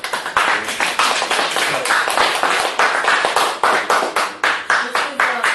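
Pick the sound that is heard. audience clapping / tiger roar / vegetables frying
audience clapping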